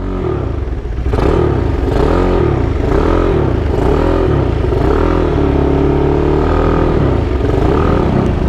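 Modified Mio motorcycle with a 200+cc engine and quick throttle, revving close and loud: after a brief idle it rises into a series of sharp throttle blips, the engine note swelling and falling repeatedly over a rough mechanical clatter.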